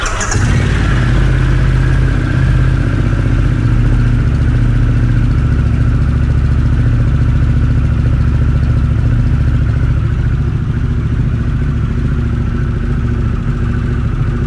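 A Harley-Davidson Dyna motorcycle engine idles loudly and steadily close by, a deep rumbling throb that holds constant with no voices.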